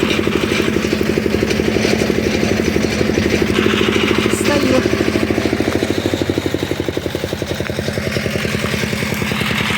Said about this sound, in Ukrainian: Ви хоч чуєте мене через тракторець.